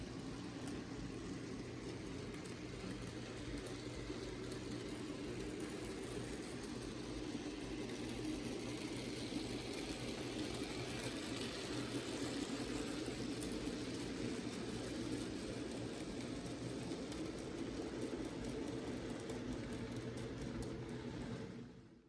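A steady, continuous mechanical drone of a small model Clayton Class 17 diesel locomotive hauling a grain train on a layout, even in loudness throughout, with a faint high whine on top.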